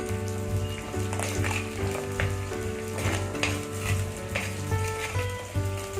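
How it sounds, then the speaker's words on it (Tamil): Curry leaves and onions sauté in oil for a fish curry, giving a continuous crackling sizzle with occasional stirring clinks over a steady background hum and tonal music. "கருவேப்பில போட்டுட்டு வெங்காயத்தாது கூட சேர்த்துக்கலாம் நல்லா வதக்கி விட்டுருவோம்"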